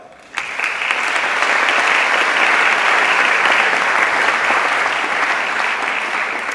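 Sustained audience applause at a school awards ceremony for grade 7 prizes, a dense steady clapping from a full room that starts abruptly and holds at an even level throughout.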